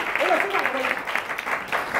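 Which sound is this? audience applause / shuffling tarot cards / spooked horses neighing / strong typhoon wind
audience applause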